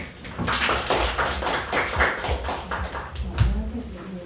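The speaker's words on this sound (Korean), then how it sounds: "박수 맞이해 주십시오" Audience at a National Assembly forum on COVID-19 and human rights gives a sparse, uneven round of applause, with scattered claps and light knocking sounds nearby.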